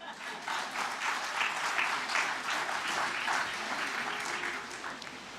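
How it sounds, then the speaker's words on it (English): A graduation audience at the 2015 HLSCC ceremony applauds in a steady, sustained wash of clapping that holds at an even level for the whole stretch. "you can clap for that"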